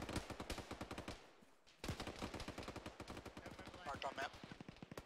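Rapid bursts of automatic gunfire crackle through a military video game firefight, steady trains of shots with a brief pause, loud and close, with faint voices under the shooting.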